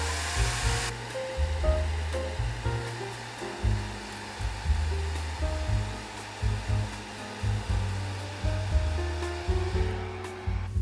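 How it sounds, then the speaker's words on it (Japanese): A hair dryer runs close and continuously to warm masking tape on a watercolour pencil painting, a steady blowing roar with pulsing pitch as it moves, alone without speech. "ドライヤーをかけて温めながら剥がしていきます"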